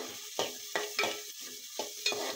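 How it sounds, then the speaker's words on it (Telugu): Green chillies, curry leaves, onions and tomato sizzle in a pan under a steady hiss, punctuated by about five rhythmic scraping stirs of a spoon; no talking. "జీలకర్ర కొంచెం వేగాక పచ్చిమిర్చి, కరివేపాకు, ఉల్లిపాయలు, టమాటా వేసేస్తున్నానండి"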